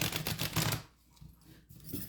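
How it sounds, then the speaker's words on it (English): Tarot cards being shuffled by hand, with a rapid burst of riffling clicks followed by quieter scattered card sounds and a softer riffle at the end. "So then what I'm going to do is I will go ahead and shuffle them."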